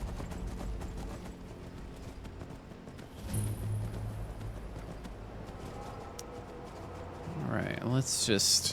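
Horse hooves clip-clop in a steady walking rhythm while riding in Skyrim near the Nightgate Inn, faint beneath someone talking, with game sounds and a brief sharper burst near the end.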